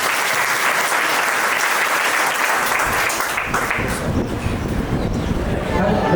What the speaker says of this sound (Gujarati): આપણે સ્વામીને ખૂબ તાળીઓથી વધાવી.